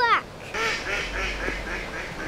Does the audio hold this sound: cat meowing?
no